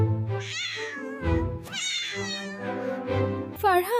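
A cat meows repeatedly in long, drawn-out, whining cries, close and clear, several calls in a row with brief pauses between them.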